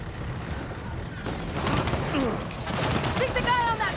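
Enemy turret fire in Gears of War 4 rattles in sustained rapid bursts, loud and continuous, over other battle noise and a few short electronic tones.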